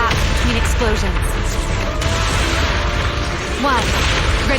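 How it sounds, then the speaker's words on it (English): Explosions in the Zenless Zone Zero video game, heavy booms and crashing bursts layered over a busy battle soundscape, with voices talking over the action. "Move in during the gaps between explosions."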